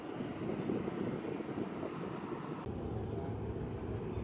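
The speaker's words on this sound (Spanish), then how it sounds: "Cerca de nosotros pasó este avión de Aerolíneas Argentinas, un Boeing 737" An Aerolíneas Argentinas Boeing 737 roars steadily as it passes near Santiago airport, a broad low rumble that holds level throughout with no voices.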